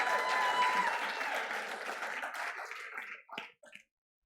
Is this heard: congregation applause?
yes